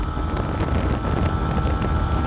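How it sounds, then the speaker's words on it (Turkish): Loud, steady wind roar buffeting the microphone while riding an RKS RK125S motorcycle, continuous rushing noise with a low rumble underneath, as if moving fast through open air. "Şu an muazzam bir rüzgar var."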